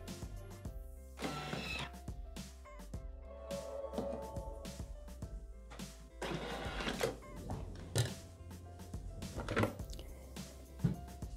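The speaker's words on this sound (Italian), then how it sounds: "Ed impastare per 10 minuti in modalità spiga." A Thermomix kneads pinsa dough in its dough mode, giving a steady mechanical whirr broken by repeated dull thumps and knocks as the dough is worked, continuing for about eleven seconds without any talk.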